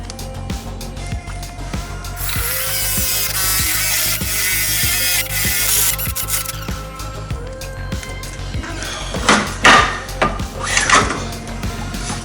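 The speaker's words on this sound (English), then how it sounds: "we're going to start with the paddle bit right here and drill a circle, drill a hole with the circle" Drill fitted with a wooden-handled paddle bit boring a hole through a wooden closet panel, a steady loud whir and grinding that holds for several seconds, then tapers into scattered knocks and clatter.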